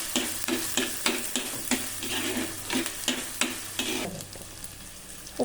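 Ginger, garlic and shallots sizzle steadily in a pan for an Alappuzha-style shark fish curry, with a spoon scraping and stirring in regular strokes roughly every half second, close and clear with no talking.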